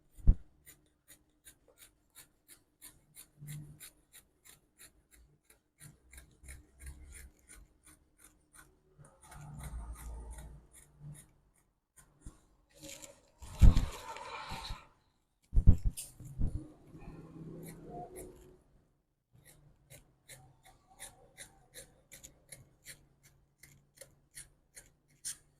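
Scissors snip through excess fabric while a handkerchief skirt is being cut, giving quiet, regular clicks and crisp rasping slices that come in short bursts, close and soft.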